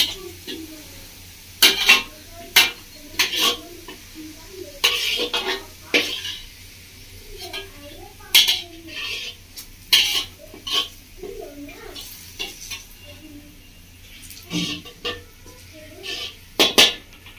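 A metal spatula scrapes and presses fried onion paste in a cooking pan, giving sharp intermittent clinks and scrapes in irregular bursts. A low voice murmurs faintly between the strokes.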